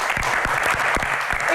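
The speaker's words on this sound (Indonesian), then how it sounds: "Dan langsung saja kita akan berikan tepuk tangan yang paling meriah untuk Ibu Lestari Murdiat" A crowd at an evening talk show gives enthusiastic applause for a female guest, dense clapping that stays loud and continuous from start to finish.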